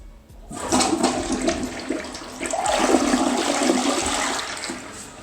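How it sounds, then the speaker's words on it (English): A freshly installed toilet in a remodeled mobile home bathroom flushes with a loud rushing gush of water that swirls and drains steadily for several seconds, close up with no talk. "we'll do a test flush"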